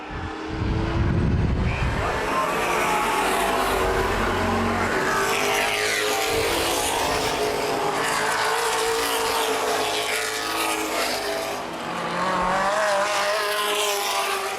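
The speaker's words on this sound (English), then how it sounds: "Lead lap cars closing in quickly" Late model race cars roar around a short oval speedway during a feature race, loud overlapping engine drones rising and falling in pitch as cars pass close by, with no voices.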